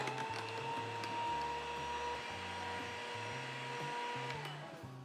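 An electric hand mixer beating oil into cake batter, giving a steady, close motorized whir with a slightly fluctuating pitch that eases off at the end.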